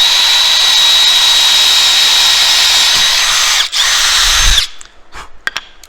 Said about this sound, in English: we're going to drill a pilot hole first